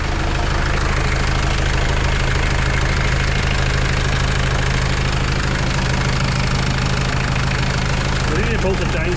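The engine of a 1990 Mitsubishi Pajero runs right after starting, idling with a steady, knocking diesel-like rumble that stays loud and constant throughout, without pause.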